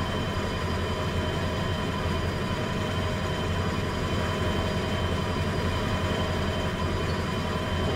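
A locomotive hauling a train of wagons in the video game Derail Valley gives a continuous, even rumble and rolling hiss at moderate volume, with no talk.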